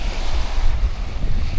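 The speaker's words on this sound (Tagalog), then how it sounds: "Ayun yung dagat." Sea waves roll and wash at a beach campsite in Lian, Batangas, a loud continuous surf roar mixed with wind buffeting the microphone.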